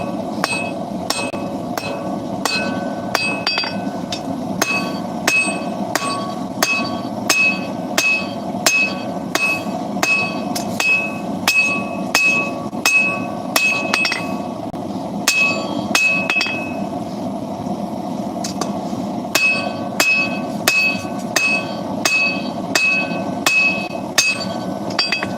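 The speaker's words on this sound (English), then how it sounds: "forge these out under the big hammer." A power hammer forging knife steel in a blacksmith shop, striking in a fast, steady train of sharp metallic blows for about 25 seconds, loud and close, with a faint ringing tone over a low forge roar.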